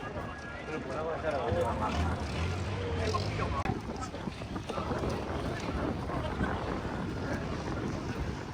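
A tour boat motor at sea off Phi Phi Island hums low and steady under gusting wind noise, with people talking nearby over it.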